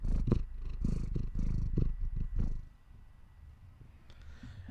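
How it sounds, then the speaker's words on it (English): A pet cat named Lucky purrs steadily at close range, a low rhythmic rumble that is strong at first and then softens to a quieter purr. "She is purring though"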